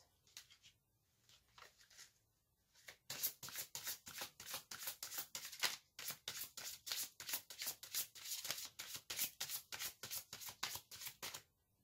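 Tarot cards being shuffled by hand, starting with a few soft rustles, then a steady run of crisp, rhythmic riffle and slide strokes close up, with no talking.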